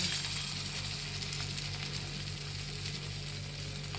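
Jackfruit kofta balls fry in hot oil, giving a continuous soft sizzle and crackle that stays fairly quiet and even throughout, with no voices.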